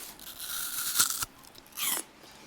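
Someone bites into a crunchy Fuji apple, a sharp snapping crunch followed by a second crisp bite and moist chewing, close to the listener with no speech.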